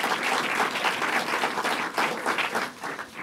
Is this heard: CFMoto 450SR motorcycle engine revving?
no